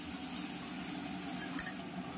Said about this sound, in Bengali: ছোলার ডালের মশলাটা খুব সুন্দর করে কষানো হয়ে গেছে